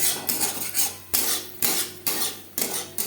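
Metal spatula scraping and clinking against a pan as katla fish belly masala is stirred over a high flame, in repeated close strokes roughly every half second, with no talking.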